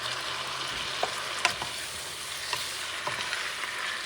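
Puerto Rican beef tripe soup ingredients sizzling in a pot, a steady hiss of frying with a few soft stirring knocks scattered through it, close and even with no voices.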